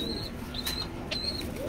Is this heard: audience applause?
no